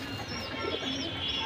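Pigeons coo close by in a pigeon collection, soft rolling calls over a steady background.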